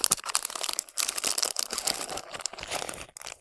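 Crinkling and rustling of a plastic zip-lock bag holding coffee packets, close and busy, with quick crackles and crunches running throughout and no talking.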